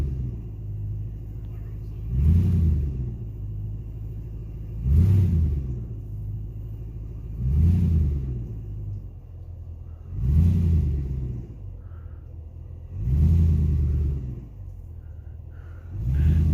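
A vehicle engine revs in regular surges about every two and a half seconds while pulling during tree cutting, each low rumbling swell rising and falling over a steady idle.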